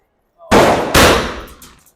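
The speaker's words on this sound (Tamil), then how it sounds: "நல்லாவே வெடிக்குது, சூப்பராக இருக்கு." Two loud Diwali firecrackers burst close by in quick succession, each a sharp broadband crack with a short decaying tail, the second following about half a second after the first.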